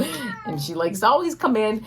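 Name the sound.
cat meowing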